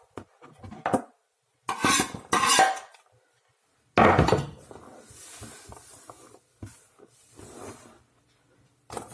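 Chopped cabbage scraped into a pan in a home kitchen: a few short bursts of scraping and rustling with light clatter, separated by quiet gaps, close and fairly loud.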